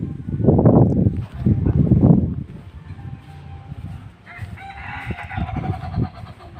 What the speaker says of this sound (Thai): มีไก่กันด้วยนะครับดูเสียงครับ